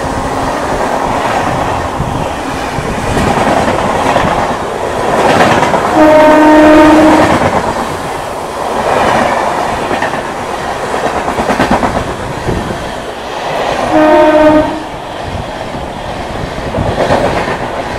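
Express trains rush past at high speed on the Howrah–Digha line, heard from aboard a local train: a loud, sustained roar with rhythmic clatter of wheels, and two horn blasts, one midway and one near the end.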